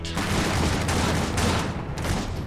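Dense, continuous gunfire from soldiers in the Iron Harvest strategy game, a steady crackling fusillade of overlapping shots with rumbling low booms, loud and unbroken throughout.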